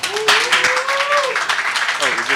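An audience claps for speakers introduced at a talk on Los Angeles County's Community Health Profiles, a brief burst of applause heard alongside voices.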